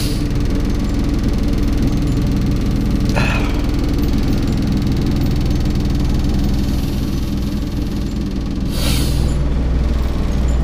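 A vibration plate exercise machine runs steadily on a level floor, giving a continuous low mechanical hum and buzz with a faint hiss and a couple of brief louder swishes.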